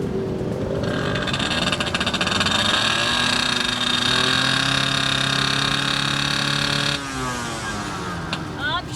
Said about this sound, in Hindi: ज़रा आप अपनी बाइक स्टार्ट करके थोड़ी सी भगा के दिखाएं